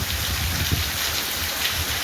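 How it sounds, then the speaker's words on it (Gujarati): Heavy rain pours down in a steady, dense hiss that stays loud and even throughout, with no voices. "ધોધમાર વરસાદ વધતો જાય છે"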